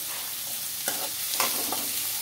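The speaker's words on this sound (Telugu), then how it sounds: "ఆనియన్స్ మనకు బాగా వేగాలండి. తొందరగా వేగడానికి కొద్దిగా సాల్ట్ అయితే వేస్తున్నా." Onions frying in a pan with salt for a dry fish curry: a constant close hiss of sizzling oil broken by a few quick stirring scrapes against the pan.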